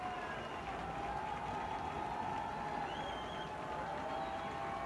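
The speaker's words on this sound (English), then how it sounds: "Listen to the crowd." Football stadium crowd at a West Georgia versus Mississippi College game roaring in a steady, dense wash of cheering, heard from a distance with a faint whistle-like tone rising through it.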